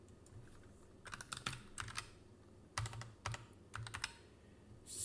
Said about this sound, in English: Okay, I'm gonna type that in.